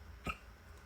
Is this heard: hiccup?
yes